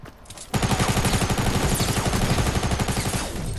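Rapid automatic gunfire in a shooter video game, a fast loud burst of shots that starts abruptly after a brief quiet moment and keeps a steady rattling rhythm for about three seconds.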